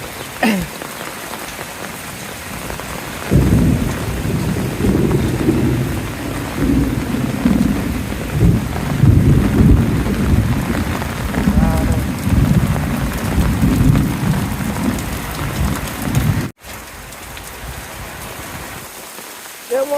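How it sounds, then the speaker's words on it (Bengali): Heavy rain sets in after a few seconds in a Bangladeshi village, a dense steady roar with low rumbling like distant thunder, then cuts off abruptly near the end. "বৃষ্টি শুরু হয়ে গেছে"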